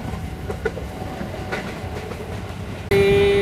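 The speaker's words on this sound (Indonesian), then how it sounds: "Di sini tuh ada suara-suara kereta gitu kayak." A train rumbles past with steady rolling clatter, then a loud, sustained horn blast cuts in near the end.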